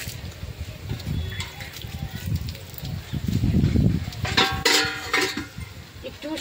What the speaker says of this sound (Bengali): আমি এখন ঝুল দিয়ে দিচ্ছি, ঝুলটা দিয়ে দিলাম।